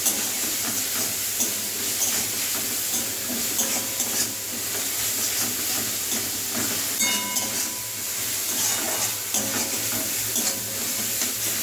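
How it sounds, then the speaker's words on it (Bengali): Onions fry in hot oil in a khichdi pan, a dense steady sizzle with occasional stirring scrapes, close and continuous with no talking. "পেঁয়াজ ভাজা হয়ে গেছে"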